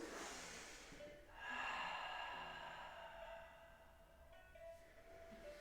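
Steady, audible breathing in and out during a Pilates ball exercise, a long airy inhale swelling into a drawn-out exhale, close and soft, with no speech.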